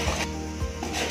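Urad dal and chana dal roast with mustard seeds in a pan, a close scraping stir with a low sizzle, a couple of stroke-like rubs in quick succession.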